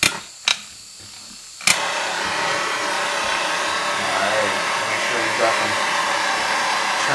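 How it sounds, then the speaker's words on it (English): Propane torches turned up to full heat against a space shuttle heat-shield tile, a steady loud roaring hiss that starts after two sharp clicks of ignition and then holds without break. "when I fire up my torches here"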